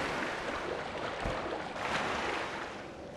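Swimming through water in Sekiro, a broadband watery wash of splashing and lapping strokes that swells and eases steadily, fairly close and alone without any voices.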